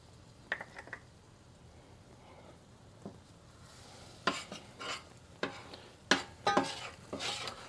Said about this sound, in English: I'll add my flour and just slowly start to whisk it in.